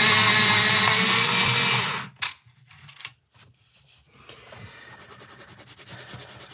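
An electric pencil sharpener grinds a light umber coloured pencil in a loud two-second burst, then stops, followed by faint scraping and tapping sounds.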